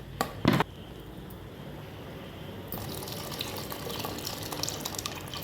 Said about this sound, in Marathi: आता ह्या स्टेपला काय करायचं, हे स्टॉक घालून घ्यायचं ना.